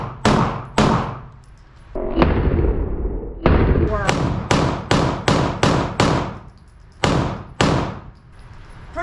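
Beretta 92X pistol fired at a shooting range, a series of about a dozen sharp loud bangs, first spaced apart, then in a fast rhythmic string, each ringing out briefly.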